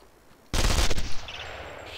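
A sniper rifle fires in the video game Contract J.A.C.K, giving one loud, sudden blast whose echo decays over about a second.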